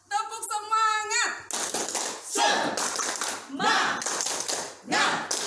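A group of teachers at a training session in a hotel clap together in a steady rhythmic pattern, loud and close, with chanting voices mixed in between the claps.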